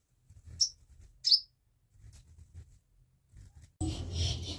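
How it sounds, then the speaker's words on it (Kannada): A house sparrow inside a room gives two short sharp chirps over quiet indoor rustling and soft handling noises, and a louder burst of mixed noise comes at the end. "ಏನೋ ಪಕ್ಷಿ ಸೌಂಡ್ ಬರ್ತಿದೆ ಅಂತ ನೋಡ್ತಾಯಿದ್ರೆ ರೂಮ್ ಒಳಗಡೆ ಬಂದುಬಿಟ್ಟು ಗುಬ್ಬಚ್ಚಿ"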